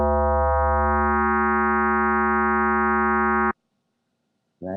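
A steady, bright FM synthesizer tone built from a sine wave in the Reveal Sound Spire, with rich harmonics, holds for about three and a half seconds, then cuts off abruptly; after a brief silence it returns.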